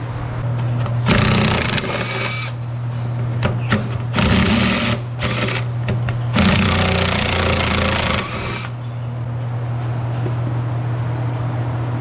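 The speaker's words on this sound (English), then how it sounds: "I'm gonna start grinding, cleaning up the metal" Metal grinding during repairs on a dairy conveyor comes in three harsh bursts of a few seconds each over a steady low motor hum.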